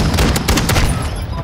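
Rapid gunfire in Call of Duty: Modern Warfare II on the Embassy map, a shotgun among the shots, loud and continuous for the whole stretch with a voice faintly underneath.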